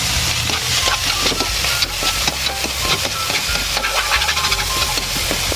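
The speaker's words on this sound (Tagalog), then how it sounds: "para ka lang nagigisa muna ng gulay" Vegetables and shrimp sautéing in a pan for pansit bato, with steady sizzling and frequent clinks and scrapes of a stirring utensil, close and fairly loud, with no talking.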